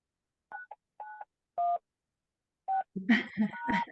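Touch-tone keypad beeps enter a meeting ID on a phone line during a conference call, several short separate tones spaced irregularly, then a burst of overlapping tones and noisy clatter at the end.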